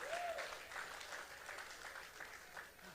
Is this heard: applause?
yes